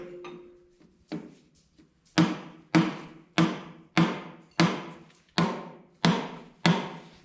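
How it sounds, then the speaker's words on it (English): Light hammer taps on a 1969 Minneapolis Moline U302 tractor engine part during reassembly, a few soft strikes at first, then a steady series of sharp, ringing hits about every two-thirds of a second, close up. "lightly taps on it with the hammer"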